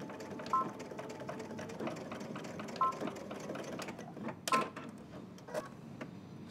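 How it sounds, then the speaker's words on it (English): Home sewing machine stitching the sides of a fabric garment with back stitching, a steady close mechanical whirr broken by several brief pauses and sharper clicks as the stitching reverses. "So let's head to the machine and secure those sides."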